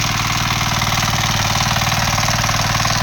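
Small hand tractor engine running during field preparation, with a loud, steady, rapid chugging throb close by and no pause.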